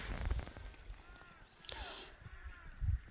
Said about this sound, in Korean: 어디선가 새들이 울고 있군요.